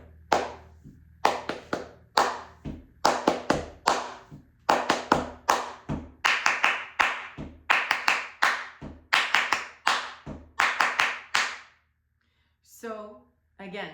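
Flamenco palmas, clapped with cupped prayer-position hands, ring out as a long series of sharp, hollow claps at a steady rhythm with a few accented groupings, growing gradually louder before stopping, with brief talk at the end.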